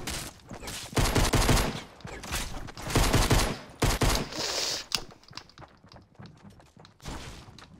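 Gunfire in Fortnite Battle Royale, with several bursts of rapid shots in quick succession, loud and close, then quieter scattered shots and a final short burst after a pause.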